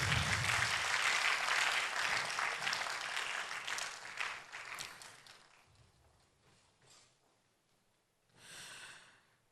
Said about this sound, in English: One more clap for Dr. Anthony.